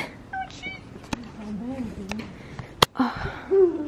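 A cat outdoors meows several times, short wavering cries mixed with sharp clicks and knocks, with people talking nearby.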